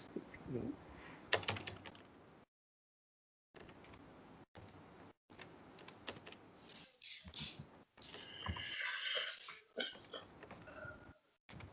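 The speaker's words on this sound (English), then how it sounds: "Just let me type it." Rapid clicking on a computer keyboard comes in irregular bursts, fairly close and faint, broken by brief dropouts of silence.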